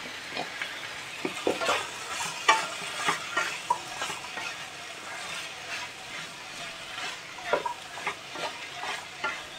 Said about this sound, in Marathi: थोडं परतून घेते 2 मिनिटं.